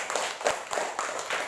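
Pupils in a primary classroom applaud during a lesson, a short burst of clapping with a few distinct louder claps, fairly close and moderately loud, with no talk over it.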